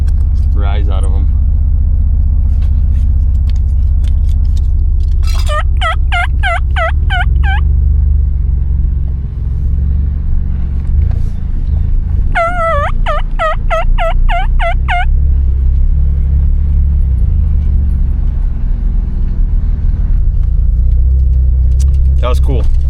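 Wild turkeys gobble in two loud rapid bursts over a steady low rumble, with a faint third call near the end, all outdoors at a snowy April truck campsite.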